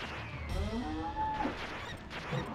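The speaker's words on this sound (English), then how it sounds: "this boss just sounds like a horse. Like a really pissed off horse." Boss monster roar from the Minotaur in Castlevania: Rondo of Blood, a loud, drawn-out bellowing cry like an angry horse or bull, rising and falling in pitch, heard alone and followed by a shorter second cry.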